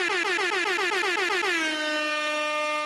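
Loud air horn sound effect blasting on a live sports-talk stream, a single sustained honk whose pitch wavers at first then steadies before fading out, with no talking.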